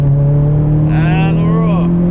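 A turbocharged SW20 Toyota MR2 pulling hard off a rolling launch, its engine holding a loud, steady drone as revs build, with a rising whine sweeping across the middle and a voice shouting over it.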